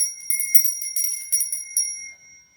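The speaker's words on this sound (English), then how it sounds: "Feels like the right time to ring my bell" A small ritual bell rings in a quick series of bright, sustained chimes, struck about half a dozen times with a shimmering tone that fades out at the end, heard close and alone.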